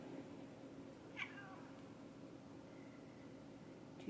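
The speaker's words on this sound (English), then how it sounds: "Is there a reason you're meowing at me?" An old cat gives a single short, faint meow indoors at about the one-second mark, then another softer cry, against a steady low background hum with no talking.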